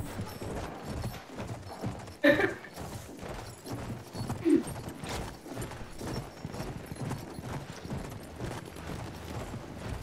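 Horse hooves galloping in the video game Battlefield 1, multiplayer on Xbox One: a steady, fast clip-clop rhythm at moderate volume, with a couple of sharp impacts and distant game noise.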